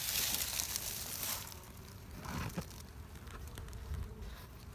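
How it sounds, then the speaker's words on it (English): Honeybees in a top hive box hum in a dense, steady buzz, loudest at first and then softer, with some light rustling and knocks, close by and with no talking. "Lots of bees in this top box, so that's a good sign"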